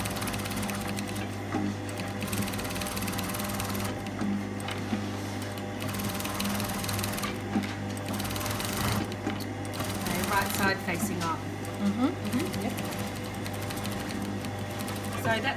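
A sewing machine top stitching along the edge of a joined collar for a tunic, its steady whirring hum running continuously at close range while people talk over it.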